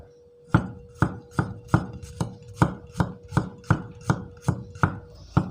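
A knife chopping garlic on a cutting board for Thai chili paste, a steady run of about twelve crisp, evenly spaced chops, close and clear with no voices.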